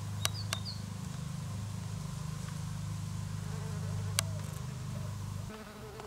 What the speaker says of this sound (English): A wasp is on the hunt.